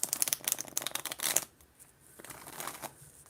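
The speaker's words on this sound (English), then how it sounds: "I'm just shuffling all the cards, getting ready" A deck of tarot cards being shuffled at close range, a dense run of quick riffling flutters and snaps for over a second, followed by softer, sparser card slides and taps.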